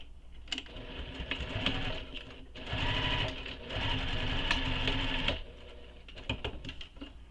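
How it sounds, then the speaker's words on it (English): Sewing machine top stitching both sides of a strap on a Louie waist pack, with bursts of steady rapid needle chatter separated by short pauses, close and clear with no talk. "top stitch both sides"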